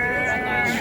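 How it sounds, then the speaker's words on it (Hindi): Single goat bleating up close at a busy livestock market in Talagang, a sustained wavering cry filling nearly the whole moment with faint background voices. "ए बकरा वेखो आंडल बकरा वेखो जी माशाल्लाह"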